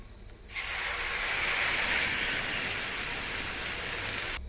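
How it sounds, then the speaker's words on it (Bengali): Water poured into a hot pot of bhoger khichuri sets off a loud, steady hiss of steam and sizzle. It starts abruptly, holds for about four seconds and then cuts off. "এবার আমি জল দিয়ে দিব।"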